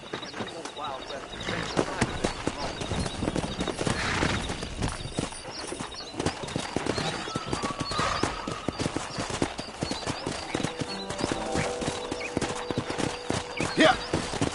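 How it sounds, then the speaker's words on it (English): Wild horses in the Red Dead Redemption video game: a run of hoofbeats clip-clopping on hard ground with an occasional whinny, mid-distance, under game ambience, with voices talking at times. "That ranch hand said there's a pack of wild horses nearby."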